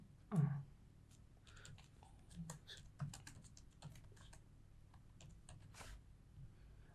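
Soft clicking of a computer keyboard as an email is typed, irregular quick keystrokes close by and quiet, with one louder knock near the start.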